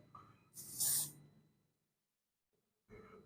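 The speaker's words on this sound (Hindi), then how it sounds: "हेयर स्प्रे की मदद से।" A can of hair spray lets out one short, bright hiss during bridal hairstyling for Hollywood waves and a low bun. Quiet handling noises come before it and a soft rustle follows after a brief pause.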